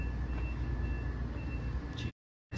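Electronic beeping from a Schindler hydraulic scenic elevator in a Miami health care building, a steady high tone over loud ambient hum, ending in a sudden cutoff to silence.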